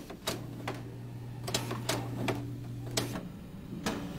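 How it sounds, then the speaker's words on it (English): An eyelet setter, or rivet press, clinches connectors at the edge of a circuit board, giving a series of sharp, separate clacks at an irregular pace over a steady low machine hum that stops partway through. "This eyelet setter or rivet press secures any large connectors located at the edge of the board"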